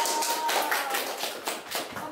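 Brief, dense burst of clapping from a small audience at a student organization Q&A event, steady and moderately loud for about two seconds with slight fluctuations.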